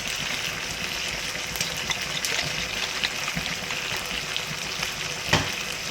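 Sardine tokku with ketchup and sweet soy sauce frying in a pan, a continuous close sizzle with occasional scraping stirs and one louder knock near the end.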